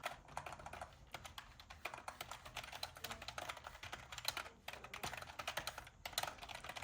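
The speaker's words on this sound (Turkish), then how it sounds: "Bakalım klavyenin sesi nasıl yüksek sesli mi çalışıyor yoksa sessiz mi çalışıyor?" Rapid, continuous typing on a soft-clicking membrane computer keyboard, a dense patter of muted keystrokes at moderate volume with brief pauses.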